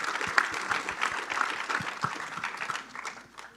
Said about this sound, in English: could we have a round of applause for Dr.